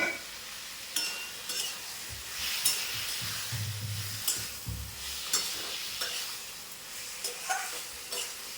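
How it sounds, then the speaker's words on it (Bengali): Jackfruit and shrimp sauté in a pan after a little water is added, with a steady faint sizzle and repeated scraping stirs of a spatula at irregular intervals, close and fairly quiet. "একটু জল দিলাম, দিয়ে 2 মিনিট কষবো"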